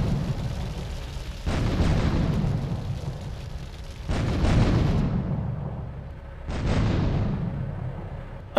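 Grenade blasts in the video game GTA 3, three loud booming explosions spaced a few seconds apart, each with a rumbling decay, heard alone without talk.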